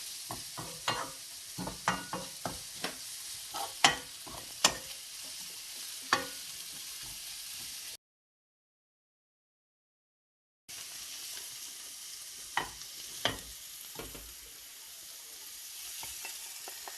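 Spices and onions sizzle and fry in a pan for muttar paneer, with steady crackling and a string of sharp stirring clicks and scrapes. A short silent gap splits the clip before the frying picks up again.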